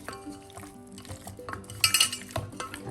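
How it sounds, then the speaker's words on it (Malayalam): Chicken being mixed by hand in a bowl with squeezed lemon juice and masala marinade: close, irregular wet squelches and scraping strokes against the dish over about three seconds, with no voices. "നന്നായി മിക്സ് ചെയ്ത്"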